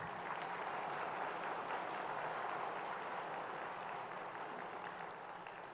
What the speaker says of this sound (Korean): 그 의인들을 위해서 박수 좀 쳐줘서 박수 좀 쳐.